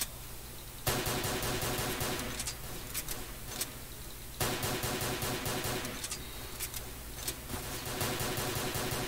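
Browning automatic rifle firing in Garry's Mod, two long sustained bursts of rapid automatic gunfire, loud and close, separated by a brief lull, with no talking.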